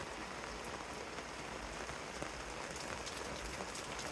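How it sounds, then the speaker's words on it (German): Heavy rain falls steadily and evenly at a sailing harbour on the Baltic between Kolberg and Swinemünde, a close hiss of drops drumming on a surface. "Der Regen hat unsere Weiterfahrt kurzerhand durchkreuzt."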